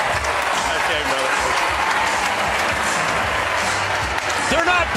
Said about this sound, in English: They're not booing, Rob. They're yelling, Cooley!